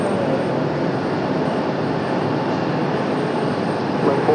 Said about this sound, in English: The Cessna Cargo Master.